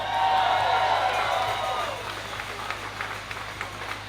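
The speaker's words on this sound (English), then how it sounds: "Give yourselves a round of applause" An outdoor crowd at a peaceful march in Sydney applauds and cheers, a loud swell of voices and clapping that gradually thins into scattered claps and whoops.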